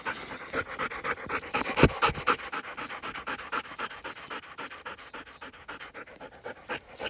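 Dogs pant close by in quick, rhythmic breaths after a run of about a mile. The breathing is loud at first and slowly eases, with a brief thump near the start and no talking.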